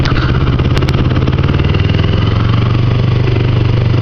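Kawasaki Ninja 250 motorcycle engine running steadily while riding, a loud, continuous mid-pitched drone with a slight buzzing clatter and no talking over it.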